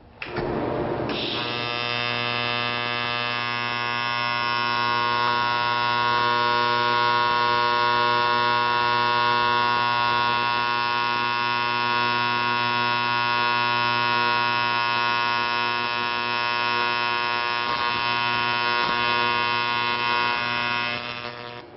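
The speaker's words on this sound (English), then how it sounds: "So I'm going to start a bead on this plate, and once I've gone about an inch, I will intentionally stick the filler rod against the tungsten" TIG welding a bead on a metal plate with filler rod gives a steady electric hum and buzz from the arc. It starts abruptly, holds constant for about twenty seconds, then stops, with no talking.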